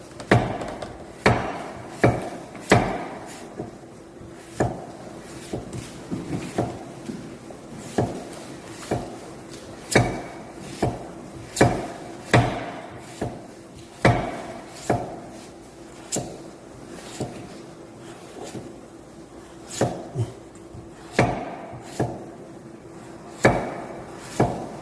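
A knife chops beet into fine julienne on a board in a French cooking class, making steady, fairly loud, regular knocks that run continuously with no talking.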